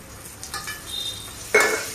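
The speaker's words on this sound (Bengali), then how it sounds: "তো আমি এখানে তেজপাতাগুলোকে দিয়ে দিচ্ছি।" Two bay leaves drop into hot oil in a kadai with half-fried onions, setting off a sudden, louder burst of crackling over a low, steady sizzle.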